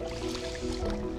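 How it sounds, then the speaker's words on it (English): A large walleye caught ice fishing in Manitoba is slipped back into the water through the ice hole, giving a brief close splash and wet dripping sounds, with no talking. "I'm gonna put her right back in the water here."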